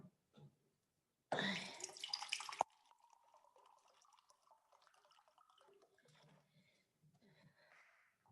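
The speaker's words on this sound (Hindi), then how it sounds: "मैं पानी पी लूं थोड़ा सा, गला खुश्क हो गया" Water is poured and drunk during a break in a lesson, with a loud burst of pouring or splashing near the start, then soft sips and small liquid sounds.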